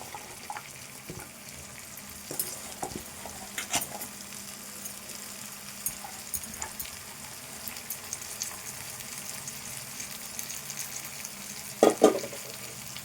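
Cluster beans cook in a pan with a soft, steady sizzle, quiet and close, punctuated by occasional scrapes and knocks of a stirring spoon, with a sharper clatter near the end and no talk.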